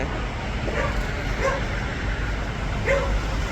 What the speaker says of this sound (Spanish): hay un perro metido en la obra como guardián